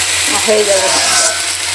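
Okra (bhindi) fries in oil in a pan with a steady broadband sizzle while a utensil stirs it, and a voice speaks briefly over the cooking.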